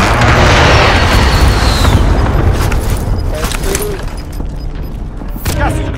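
Heavy airstrike blasts boom and rumble in a Call of Duty Modern Warfare match, a loud explosive roar that slowly decays as scattered pops and crackles continue.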